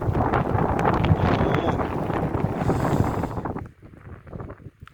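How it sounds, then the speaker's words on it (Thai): Strong, cold wind in a snowy outdoor setting roars hard into the microphone, then drops sharply near the end to lighter buffeting. "ได้จังหวะลมแรงพอดี"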